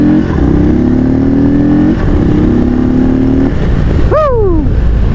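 An Indian Sport Chief motorcycle engine runs loud and close, a steady deep rumble that rises slightly in pitch, then revs sharply up and falls away near the end.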